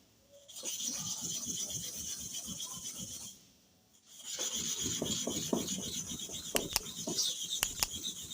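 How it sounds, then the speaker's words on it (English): A nail clipper blade is rubbed back and forth across a sharpening stone in steady, close, gritty rasping strokes, pausing briefly midway before resuming, with a few sharp clicks near the end. "This is how to disvirgin nail clipper blade on the stone."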